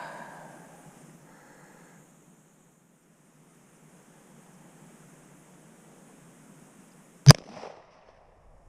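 A single sharp, loud gunshot from a SIG M18 pistol cracks out after a long, quiet stretch, followed by a brief echo; faint breathing and low background noise precede it.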